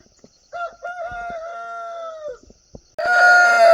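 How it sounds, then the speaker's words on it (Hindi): A rooster crows a long, clear cock-a-doodle-doo inside a farm poultry pen, followed by a burst of loud, overlapping clucking from the chickens nearby. "इधर हमने सारी जो है वो मुर्गियाँ रखी हुई हैं"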